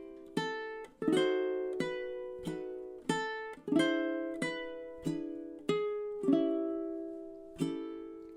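Ukulele playing measures 14 through 17 of a song: about ten strummed chords ring out in a steady rhythm, each bright attack decaying before the next, close and alone.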